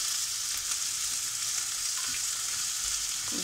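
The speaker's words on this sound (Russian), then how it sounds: "Ну вот, жарится у нас лучок." Steady crackling sizzle of onions frying in a pan, continuous and close, with no talking.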